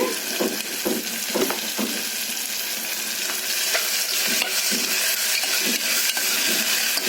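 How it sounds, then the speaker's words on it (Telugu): Vegetables frying steadily in a pan as ginger-garlic paste is stirred in for paneer pulao, with a continuous close sizzle and soft scraping strokes of the spoon throughout. "ఇందులో ఇప్పుడు ఒక స్పూన్ అల్లం వెల్లుల్లి పేస్ట్ కూడా వేసుకొని కలుపుకుందామండి"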